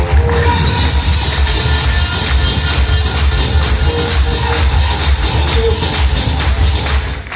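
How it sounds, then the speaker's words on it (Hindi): A crowd at a network marketing business seminar breaks into loud, sustained applause to welcome guests, dense clapping that continues unbroken from start to finish. "इनका जोरदार तालियों से स्वागत करें"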